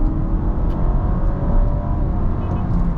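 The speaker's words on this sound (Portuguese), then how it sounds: "Ele simula o funcionamento do motor a combustão como se ele estivesse trocando marcha" Honda Civic hybrid accelerating along an avenue, a steady engine drone and road roar inside the cabin that builds as the revs climb, with simulated gear shifts that are not clearly separated in the steady noise.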